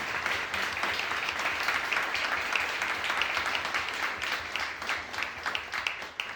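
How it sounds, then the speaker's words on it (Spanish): An audience at a cultural venue breaks into sustained, dense applause, many hands clapping steadily and fairly close for several seconds with no talk over it. "Pido un aplauso para él, por favor."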